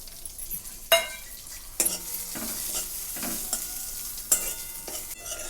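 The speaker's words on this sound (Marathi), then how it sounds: "त्या तेलात थोडंसं मटकी भाजून घेणार आहे" Moth beans roasting in a little oil in a pan, with a steady sizzle broken by a few sharp spoon scrapes and clinks, close and moderately loud, no voices.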